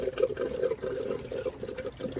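Close, steady rush of water draining and trickling out of a Hayward pool filter as pressure is relieved, with a light bubbling gurgle running throughout.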